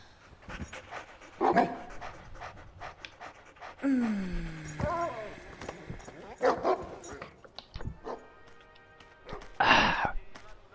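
A dog in the video game Beyond Good & Evil HD pants steadily with occasional short barks and whines. The sounds are close and moderately loud over game effects, including a sweeping tonal sound partway through.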